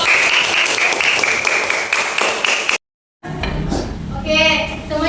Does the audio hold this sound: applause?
yes